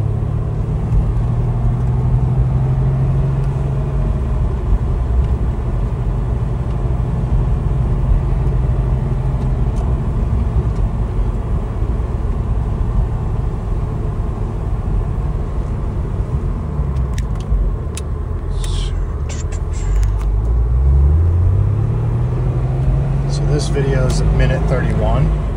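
A 1997 Porsche with a manual transmission drives steadily, its engine rumbling low and continuous from inside the cabin, with a couple of rising revs as the gears shift.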